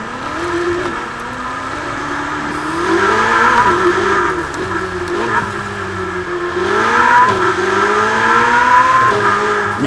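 In the Forza Horizon 4 video game, a Ferrari Portofino's V8 engine drones loudly and steadily, its pitch rising and falling through repeated revs and gear changes as the convertible drives on.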